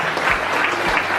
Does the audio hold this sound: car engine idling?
no